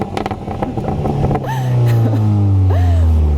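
Exhaust of a 2020 Mini John Cooper Works Countryman All4 with an enlarged exhaust, revving up and holding a loud, steady drone up close after a rising burst, with some wind buffeting.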